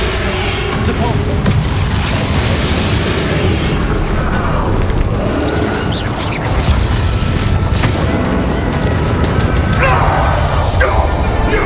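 Depulso force spell cast in Hogwarts Legacy, a loud, dense impact boom with crashing debris inside a busy, continuous wash of combat noise and game audio, with voices over it.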